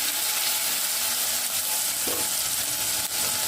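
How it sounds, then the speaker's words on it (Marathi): A chili, garlic and ginger paste fries in hot oil, giving a steady, close sizzle with faint stirring scrapes throughout. "ती देखील आपल्याला थोडीशी तेलात परतवून घ्यायची आहे"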